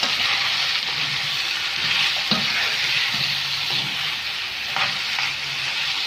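Onions sizzle in a pan with tomato while being stirred, making a steady crackling fry broken by a few sharp scrapes of the spoon against the pan, close and alone with no voices.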